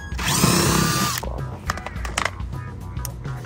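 Power drill spinning out 10 mm screws on a 2015 Chevy Equinox's plastic trim near the headlight, a loud whining burst for about a second, then scattered clicks, taps and handling noises close by.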